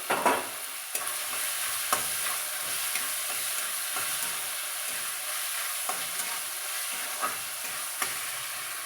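Tomato and chopped green chilli frying in a pan give a steady close sizzle, punctuated by regular sharp scrapes and taps of a spatula stirring.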